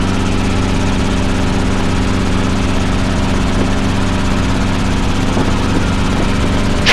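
Helicopter engine and rotor heard from inside the cabin during a training lesson on autorotations, a loud, steady, close drone with tonal hum running unbroken throughout.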